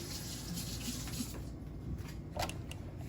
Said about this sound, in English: Rinse off that spoon.